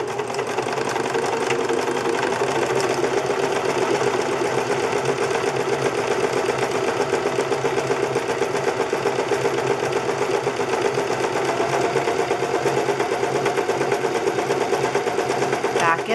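A sewing machine stitching a zigzag seam on fabric for a bag, running forwards and backwards in a steady, continuous close whir that never stops.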